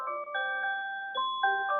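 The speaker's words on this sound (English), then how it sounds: "that chime lets us know that it's time for Q&A" A tonal electronic chime at the close of a hiring webinar, several clean sustained notes stepping in pitch one after another, clear and alone without talk.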